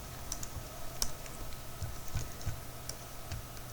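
Typing on a computer keyboard, a quiet irregular patter of key clicks over steady background hum, close and faint, no speech.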